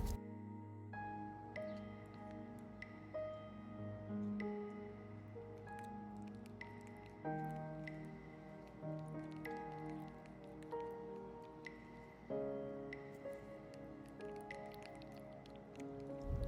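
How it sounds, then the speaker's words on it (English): Aloe vera gel being stirred for a homemade lip gloss, soft wet squishing and dripping strokes, quiet and close, over gentle background music. "now that the gel is mixed really well"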